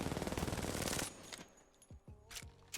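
A weapon in Apex Legends fires a rapid, sustained automatic burst for about a second, then stops, leaving a few scattered sharp reports and handling clicks in the quiet after.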